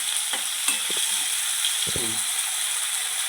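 Cumin seeds and chopped onions being stirred in hot oil in a frying pan, a steady sizzling hiss broken by a few scraping, clicking strokes of the spoon against the pan.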